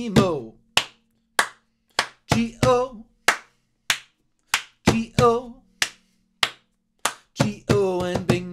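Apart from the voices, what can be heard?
children clapping hands in rhythm to the Bingo song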